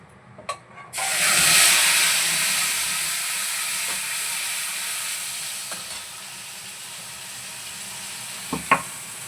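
A paste of ginger, garlic and onion hits hot oil with a sudden loud sizzle that slowly settles into a steady hiss, with a few faint clinks near the end.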